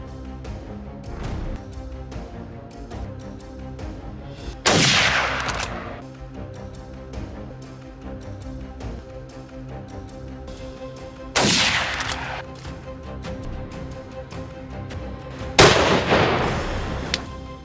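Rifle shots aimed at bears ring out as three sharp, loud blasts spaced several seconds apart, each trailing off in a brief echo, with a low, steady background between them.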